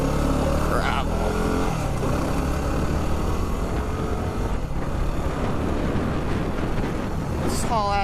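A 2018 Yamaha WR250R dual-sport motorcycle rides over gravel, its steady engine drone and wind rush continuous and loud throughout, with a brief rising rev near the end.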